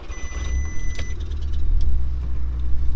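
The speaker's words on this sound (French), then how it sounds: "On va démarrer la voiture." An Audi S3 engine turns over and starts after an oil change, settling into a steady low rumble with a faint high whine and a few clicks near the start.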